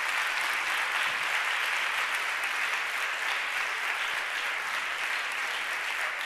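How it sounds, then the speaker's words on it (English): Sustained applause from a big crowd at a women-in-tech gathering: thick, even clapping from many people that holds at a constant level throughout, with no voices standing out. "So let's give them an applaud"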